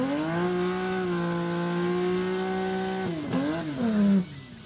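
A Toyota Hilux races down a no-prep drag strip, its engine holding a loud, steady high-pitched whine that drops sharply, briefly climbs again, then cuts off.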